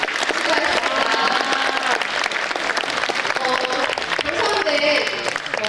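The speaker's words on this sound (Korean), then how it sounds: "우리 내 후보에게 큰 박수 한번 부탁드릴게요" A school audience applauds student council election candidates, including those who lost, with steady, dense clapping that fills the room throughout, while a voice talks over it at times.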